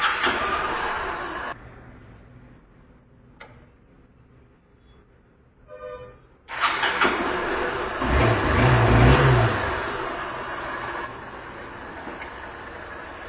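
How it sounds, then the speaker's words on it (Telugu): Honda Unicorn motorcycle engine idling and revving, loud and broadband, with a quieter lull in the middle and no speech. "చూడండి, ఇంజిన్ నాయిస్ చూడండి ఎంత స్మూత్గా ఉందో."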